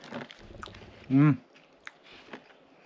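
Someone bites and chews crunchy freeze-dried Balkan cheese, with a few short crisp crunches close to the mic, between soft sounds of the mouth and a brief vocal hum.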